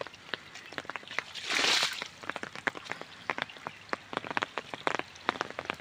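Heavy rain falls in a muddy rural village, heard as many close, distinct drops and drips on wet ground, with a brief louder splashing burst near the start and no talking.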